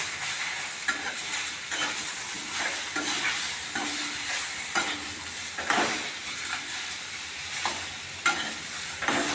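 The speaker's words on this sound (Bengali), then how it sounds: "টমেটো দিচ্ছি আমি এখন। এগুলো দিয়ে একটু নাড়াচাড়া করব।" Vegetables and tomatoes being stirred in a hot pan for a curry of drumsticks, eggplant, green banana, potato, carrot and radish, with a steady soft sizzle and repeated scraping strokes of a spoon against the pan.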